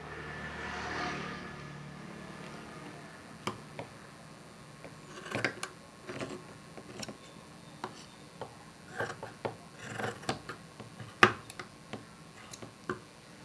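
Scissors cut through doll dress cloth with close, crisp snips that come as irregular clicks and short rustles of fabric after a soft opening shuffle. No one speaks over them.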